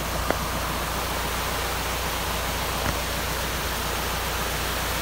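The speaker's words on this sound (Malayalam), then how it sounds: "ചെറിയ അത്യാവശ്യം കുഴപ്പമില്ലാത്തൊരു വാട്ടർഫോൾസ് ആണ്" A small waterfall in the Sathram forest pours with a dense, continuous hiss and rush, steady and fairly near, with no voices over it.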